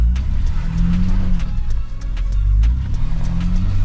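A Ford Bronco Raptor engine revs and pulls while crawling off-road over a bump, a loud, close, steady rumbling drone that swells and eases with throttle, with faint clicks and knocks over it.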